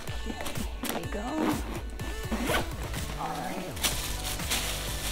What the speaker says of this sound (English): maybe if I zip this compartment up, it'll make things a little bit easier